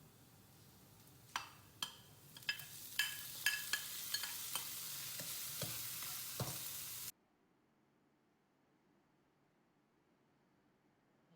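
Garlic and chicken frying in a pan, a soft sizzle under a run of sharp stirring clinks and scrapes for several seconds before the sound cuts to near silence.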